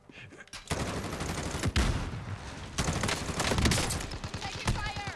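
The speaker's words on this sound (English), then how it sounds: "Taking fire." Gunfire in Call of Duty Warzone crackles in dense, loud bursts and rapid automatic volleys, with sharp individual shots punctuating the barrage and a brief pause between clusters.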